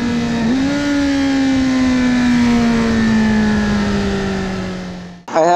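A 2019 Kawasaki Z900 naked motorcycle pulls hard through the revs, its loud exhaust and intake holding a steady, slowly falling howl for several seconds. The note drops away briefly near the end, then cuts back in with a sharp burst.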